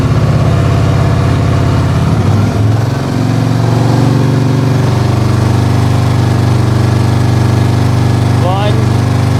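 A Harley Davidson fitted with a Tab Performance slip-on exhaust with Zombie baffles, loud close-up engine rumbling then settling into a steady held rev around 2000 RPM, with a voice briefly heard near the end.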